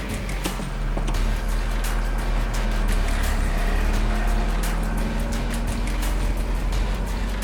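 A Mazda Miata with a suspected clogged fuel pump filter drives along, its engine giving a steady low drone with broadband road and wind noise at constant loudness throughout, and no talking.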